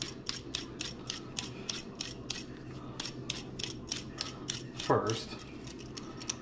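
Vegetable peeler scraping along a vegetable in quick rhythmic strokes, a steady series of close rasping scrapes with a brief voice partway through.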